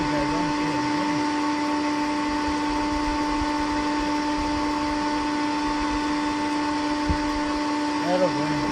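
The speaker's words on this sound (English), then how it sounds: "so I'll turn that noisy vacuum cleaner off." A loud, steady motor whine drones without pause, with a constant hum and a voice talking faintly beneath it.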